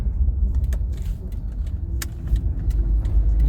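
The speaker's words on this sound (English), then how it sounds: "let me pull in the car now" Car pulling into a corner spot, a low steady engine rumble close by with faint rattling and clicks over the top.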